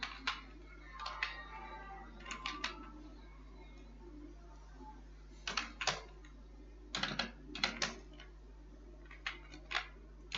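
Keys tapped on a computer keyboard while filling in an Excel salary sheet, in short clustered bursts separated by pauses, fairly close and clear over a low steady hum.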